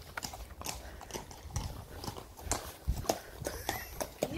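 Hooves of a horse clip-clop nearby in an uneven rhythm of distinct knocks as it is led on a walk, with outdoor background noise and occasional faint voices.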